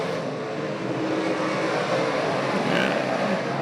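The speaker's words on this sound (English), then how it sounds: "Field working it into turn number 3 and 4 with Scott Webb in control once again." Modified race cars roar around Can-Am Speedway in a feature race, a continuous loud engine drone that swells and fades slightly as the field passes, with no talk.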